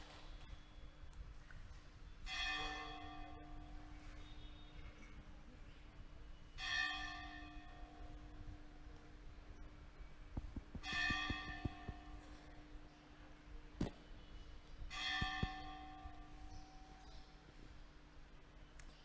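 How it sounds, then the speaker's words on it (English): A church-style bell rings four times at even intervals about four seconds apart after a spiritual talk, each strike bright and ringing before fading, fairly distant and soft against a quiet room with faint background noise. "I'm going to wait for the bell."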